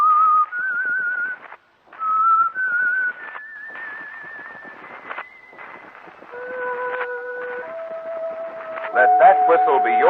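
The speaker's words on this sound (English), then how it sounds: "Let that whistle be your signal for the Whistler." Whistled theme tune of The Whistler radio show, a clear solo human whistle carrying a slow melodic line of sustained notes with brief pauses, followed by orchestral tones joining at the end.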